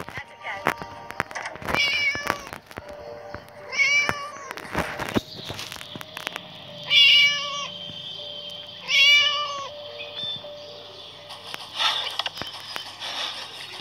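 A cat meows several times with distinct, drawn-out cries spaced a few seconds apart, over light rustling and clattering.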